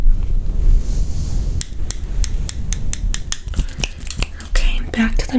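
Small pinpoint scissors snipping hair up close during an ASMR haircut, a quick run of crisp, evenly spaced cuts that gets denser toward the end, over soft rustle and faint whispering.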